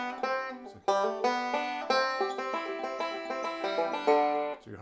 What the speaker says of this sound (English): So normally Red River Valley goes.